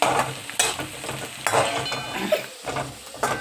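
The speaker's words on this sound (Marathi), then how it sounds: "दोन मिनटं आपण फ्राय करून घेऊया पूर्ण लसूण" Whole unpeeled garlic cloves frying in a pan, a steady close sizzle with occasional stirring scrapes and clinks, no talking.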